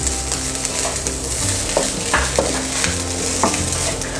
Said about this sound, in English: So just the soy sauce and the oyster sauce, stir that in.